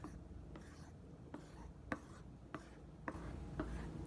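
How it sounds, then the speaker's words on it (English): Sourdough levain starter being stirred by hand in a kitchen, a quiet run of soft scraping and knocking strokes at a fairly even pace, each stroke a brief tap against the container. "just going to mix the levain up"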